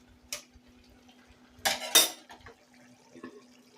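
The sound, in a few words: stirring egg masala in a pan with water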